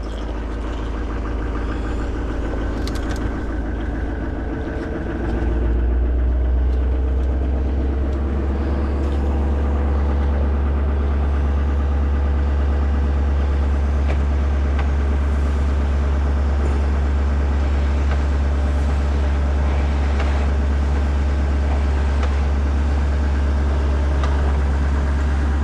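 A snowmobile engine turns over on a cold start, then settles into a loud, steady idle with a deep, constant drone that holds for the rest of the span, with no talking over it.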